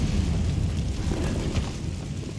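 A Confringo fire spell from the Hogwarts Legacy video game bursts in a dense, rumbling blast that rolls steadily for a couple of seconds, heavy in the low end, with no voices over it.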